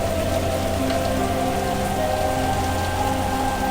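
Heavy night rain pours steadily in a cartoon story, a dense, continuous hiss of drops on surfaces with a low rumble beneath and no voices.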